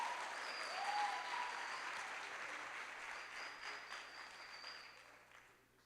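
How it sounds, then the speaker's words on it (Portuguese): A church congregation at a midweek evening service applauds with steady, moderately distant clapping that slowly fades out. "Mais uma vez aplauda o Senhor."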